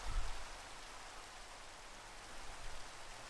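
Steady rain falls in Minecraft, a soft, even hiss of drops continuing throughout with no other sounds.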